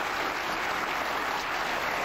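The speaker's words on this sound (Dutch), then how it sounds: "gaan we voor haar een schitterend applaus geven" Audience applause on a late-1980s Flemish television show, dense continuous clapping from a studio crowd, loud and unbroken.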